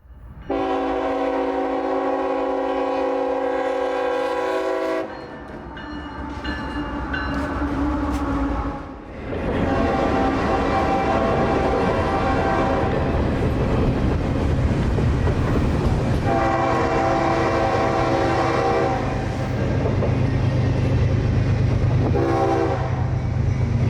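CSX freight train L795, led by CSXT 5288 with a K5HLB horn, passes near Folkston, Georgia, sounding long, loud horn blasts over a heavy, continuous rumble and clatter of rolling wagons.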